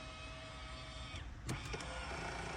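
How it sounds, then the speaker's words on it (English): A short electric motor whir from a stuck power-folding side mirror on a 1996 Toyota Windom, starting and stopping briefly against a steady low background hum. "So this does have power folding mirrors as well."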